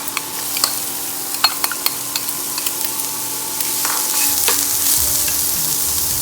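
Onions frying in a few teaspoons of oil in a pan while making methi matar malai, a steady sizzle with scattered stirring clicks, growing denser and louder toward the end, close and alone with no talk.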